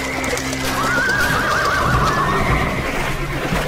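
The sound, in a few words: horses neighing in mud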